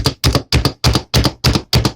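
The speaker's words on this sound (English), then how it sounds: "as you get it rolling around, then you know it's chopping up everything very well" A food chopper chops bacon, blue cheese and sausage burger ingredients in a quick, loud, steady rhythm of seven sharp chopping strokes, close up and with no talking.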